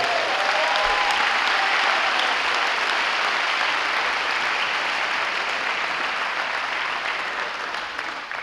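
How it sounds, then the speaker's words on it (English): A crowd at a school senior night presentation honoring a coach gives a long round of applause, dense and steady for over eight seconds, gradually tapering toward the end. "So give it a round of applause here."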